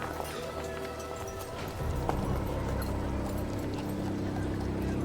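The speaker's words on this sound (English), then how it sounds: "you hear a horse" Continuous horse hoof clatter as a sound effect during a tabletop role-playing game session, steady and fairly loud, with a busy layered background throughout.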